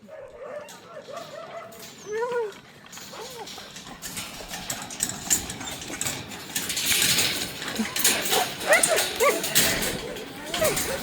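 Huskies in an Arctic dog yard bark, yip and whimper excitedly as they are let out to run, several dogs calling at once over scuffling and outdoor noise, with the barking growing busier toward the end.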